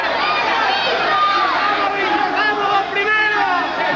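A boxing crowd in an exhibition hall roars steadily, a dense wash of cheering and shouting that runs throughout under a commentator's voice.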